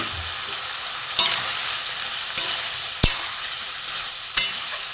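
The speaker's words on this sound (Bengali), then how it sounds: "এর সাথে একটু আমি কষিয়ে নেবো মশলার সাথে।" Fried potatoes and ridge gourd sauté with spices in a hot pan, a constant close sizzle punctuated by four sharp spatula knocks and scrapes against the pan, with no talking.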